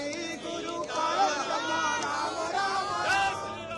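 Dense crowd of devotees at the Ayodhya Ram temple, a steady murmur of chatter with scattered shouts and cheers rising through it, close and continuous.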